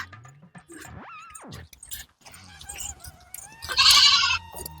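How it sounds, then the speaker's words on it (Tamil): Goat bleating in a rural village setting, a few wavering calls at moderate distance, with scattered background voices and some clatter around them. "எங்கேயோ நம்ம ஆடு சவுண்டு தான் கேக்குது"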